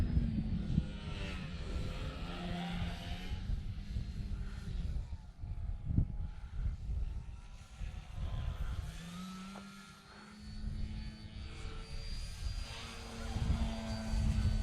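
Engine of a Piper Clipped Wing Cub light airplane coming in to land on rough ground in crosswinds, a steady propeller drone that dips and swells with throttle changes, fairly close and continuous throughout.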